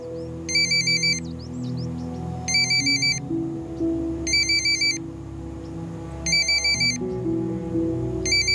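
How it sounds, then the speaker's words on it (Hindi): A mobile phone ringtone plays in repeated bursts of bright electronic trills, loud and near, over a soft musical background with no talk. "उठा ले, इस बार खुद सॉरी बोलने के लिए फोन किया होगा।"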